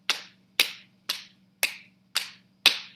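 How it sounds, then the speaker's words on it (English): A person alternately pats their legs and claps their hands in a slow, steady rhythm, six sharp, close slaps evenly spaced with a low hum running underneath. "You can always just go halfway, like with your patting your legs and then just clapping"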